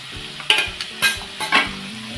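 Chopped banana flower being stirred in a pan for a Maharashtrian keli-phool bhaji, with a steady sizzle broken by several distinct scraping stirs, close and alone.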